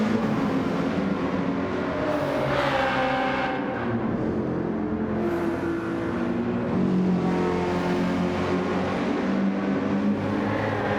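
Peugeot race car engine in a racing video game league: a continuous loud engine drone with rising and falling revs as the car accelerates and lifts, alone without talk.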